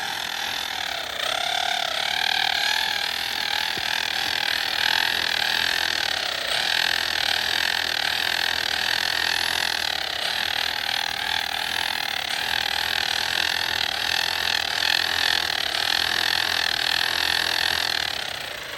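A Traxxas Stampede 2WD brushless RC truck spins its tires on ice, its high electric whine rising and falling steadily across the stretch alongside a low outdoor rumble.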